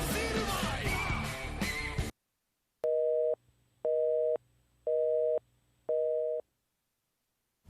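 After a sudden burst of loud music cuts off, a phone line gives a busy tone following a dropped call, four evenly spaced beeps sounding clearly in near silence, with no one talking.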